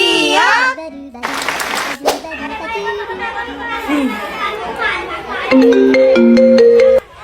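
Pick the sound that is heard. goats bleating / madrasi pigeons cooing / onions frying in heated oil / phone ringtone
phone ringtone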